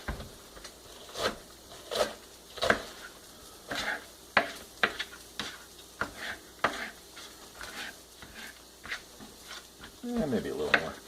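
Spam slices sizzling and frying in a pan, with repeated sharp scraping and stirring clicks at a steady rhythm close by, and a brief louder rustle near the end.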